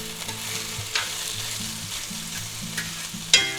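Ham, sausage and cheese sandwiches frying in a pan give off a steady close sizzle with a few sharp spatula clicks, no voices.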